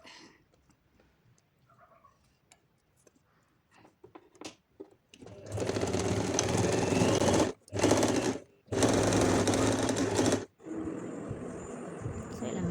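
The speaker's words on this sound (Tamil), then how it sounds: "ஸோ ரெண்டுமே பின் பண்ணி எடுத்து நீங்கள் தைச்சி எடுத்துக்கோங்க." Waistcoat pieces run through a sewing machine in three loud, steady whirring bursts separated by short pauses, after a quiet stretch of faint clicks and handling at the start.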